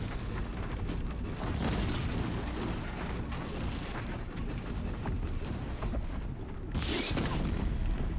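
Explosion in the video game Horizon Zero Dawn, a dense, continuous rumbling blast with booming crackle that stays loud and close for several seconds.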